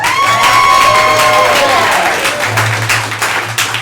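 Audience applause and cheering at a Whose Line improv comedy show in St. Pete, a loud sustained wash of clapping with whoops and shouts that gradually tapers off.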